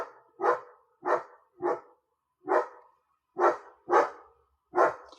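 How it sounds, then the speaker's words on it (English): A dog barking in sharp, loud, close bursts, seven separate barks with short pauses between them, alone without talk. "Let him do his barking."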